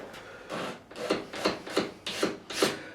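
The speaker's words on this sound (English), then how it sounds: "I still will give that a little scrape just to make sure" Rhythmic scraping as dried glue is cleaned off a guitar neck at the truss rod end, about six short rasping strokes close up with brief pauses between them, and no talking.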